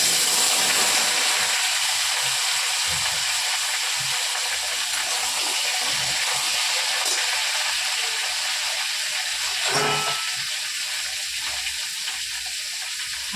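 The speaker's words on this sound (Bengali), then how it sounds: "এই কড়াইটাতে এক পাশে সবজিটা ভাজি আজ একটু ভেজে দেবো সবজিটা" Vegetables frying in a kadai for vegetable khichdi, a loud, dense, continuous sizzle close by with occasional scrape of a utensil, no talking.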